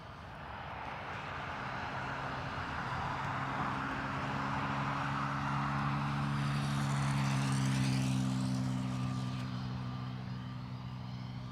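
An Airbus A321neo airliner at Dublin Airport gives a steady jet engine rumble that swells gradually, peaks, then eases slightly, heard from a distance with no talking.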